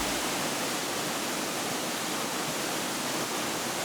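A forest waterfall pours into a splashing creek in a national forest recreation area, a loud, continuous broadband rush of falling water with no other sounds.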